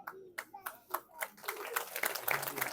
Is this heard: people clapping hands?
yes